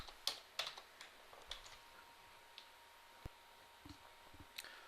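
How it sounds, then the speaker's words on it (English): Text typed on a computer keyboard in Word, sparse, quiet key clicks close by in an uneven rhythm, with a few separated taps and soft clacks. "I'm just going to type, "This is a bookmark. Do not delete me.""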